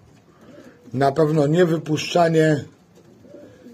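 Young racing pigeons coo in one clear, close, warbling phrase in the middle, with quiet surroundings before and after and someone speaking faintly.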